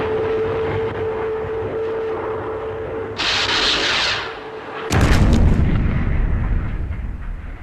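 Gunfire from an attacking aircraft at a target aircraft in the Thunderbirds puppet series, a steady engine drone broken by a brief hissing burst, then a loud roaring blast with rumbling decay.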